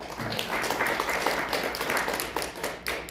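Meeting attendees at a general assembly of a Korean foundation applaud together to approve an officer change, a steady crowd of claps held at an even level for a few seconds with no talk over it.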